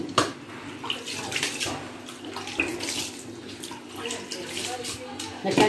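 Water splashing and trickling steadily while corn semolina dough is worked by hand, a continuous wet, noisy wash close up, with occasional louder splashes throughout.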